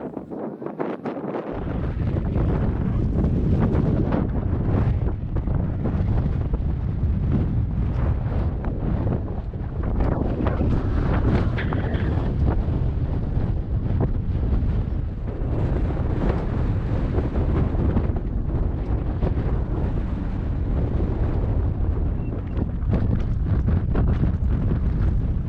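Strong, constant wind roars and buffets over an anchored sailboat riding head to wind at high tide in a creek during wild weather, with heavy microphone rumble throughout and no voices.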